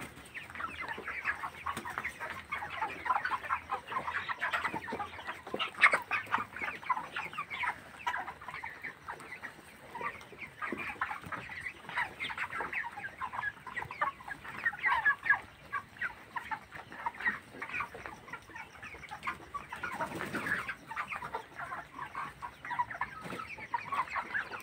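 Broiler chickens in a poultry farm shed, a dense chorus of many birds clucking and chirping continuously at close to moderate range, with occasional louder calls rising out of the flock.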